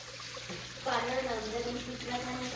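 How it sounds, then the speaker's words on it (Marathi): Water runs from a broken household tap in a Konkan village home, a soft rushing flow that swells after a moment, heard faintly beneath a person speaking. "पाणी आलंय नळाला."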